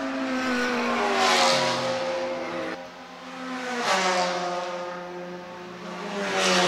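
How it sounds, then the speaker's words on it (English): Porsche GT race cars at the DeWALT GP 2024 roar past in a loud, continuous pass, engines revving and shifting pitch as they rise and fall in volume, with a brief dip midway before the noise swells again. "You're followed by two nice looking Porsches."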